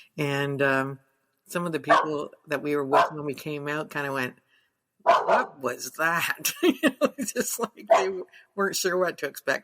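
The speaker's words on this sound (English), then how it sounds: "I have to apologize for my barking dog" A dog barks in a house, its barks blending with and partly masked by a steady conversation between two women.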